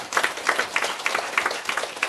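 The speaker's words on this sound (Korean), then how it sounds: "우리 하나님께 영광의 박수 드리겠습니다" A church congregation gives a short burst of applause during a Sunday service, many hands clapping in quick, fairly rhythmic claps that stay close and even for a couple of seconds.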